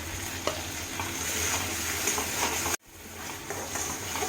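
Small mourala fish cook in a pan with spices, turmeric, salt and poppy seed paste. A loud, constant sizzle runs under steady stirring scrapes, with a brief dropout midway before the frying resumes.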